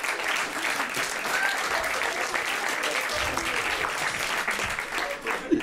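A theatre audience at a stand-up comedy show claps continuously, a dense, even wash of applause that holds steady throughout with no breaks.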